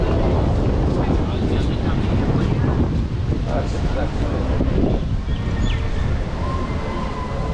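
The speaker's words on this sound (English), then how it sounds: "It's been so windy here lately." Steady, loud wind buffeting a microphone while walking in Waikiki, Oahu, Hawaii, a continuous low rumble and roar throughout with no pauses.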